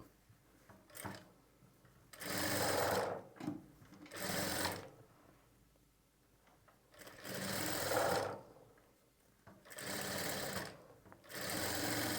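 A sewing machine stitches piping onto fabric in four or five steady motor bursts of a few seconds each, separated by quiet pauses, close and alone with no talking.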